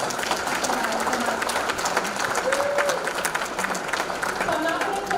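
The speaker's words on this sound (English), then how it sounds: "Round of applause for organizing all of this tonight." Dinner-event audience at a veterans speaker series applauds steadily, a dense wash of clapping with a brief voice or whistle partway through.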